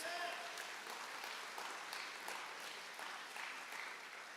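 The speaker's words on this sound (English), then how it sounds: "let's give a round of applause to all boys lacrosse team players" An audience at a spring sports awards ceremony applauds the boys lacrosse team, a dense, steady wash of clapping that carries on throughout and slowly tapers, with faint voices mixed in.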